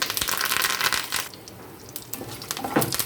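Curry leaves dropped into hot tempering oil with mustard seeds, cumin and lentils, giving a loud burst of crackling sizzle that settles into a softer, steady fizz.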